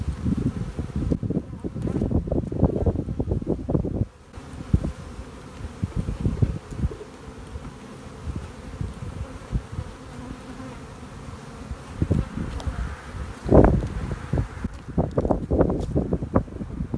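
Honeybees buzz around an open hive frame from a newly installed overwintered nuc, a close, wavering drone with bursts of louder wingbeats, soft wind noise and a brief quieter gap.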